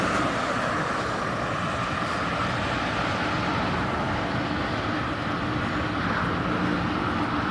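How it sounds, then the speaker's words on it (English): Qatar Airways Boeing 777 airliner at East Midlands Airport, a steady broad engine roar held at constant loudness throughout, with no talk. "You're just in time to see the Qatar 777."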